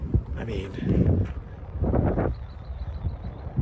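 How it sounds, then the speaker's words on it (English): Wind gusting across a high mountain campsite along the Pacific Crest Trail, a steady low rush with louder surges, close to the microphone and buffeting it, with a voice speaking over part of it. "Might be a little windy."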